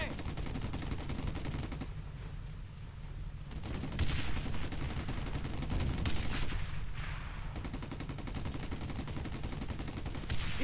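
Sustained suppressive gunfire in the PS2 World War II shooter Brothers in Arms: Road to Hill 30, rapid rifle and machine-gun bursts rattling continuously with heavier booms at intervals, fairly distant and dense.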